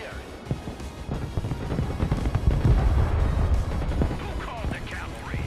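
Aircraft strafing run in the Broken Arrow war game, a rumbling swell of heavy gunfire and impacts building and rolling through the middle of the clip over battle noise, with radio-style chatter around it.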